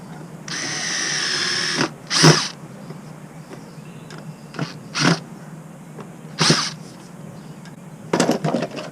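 A hammer drill whirs steadily into wood for over a second, followed by several short sharp bursts of drilling at irregular intervals, close by.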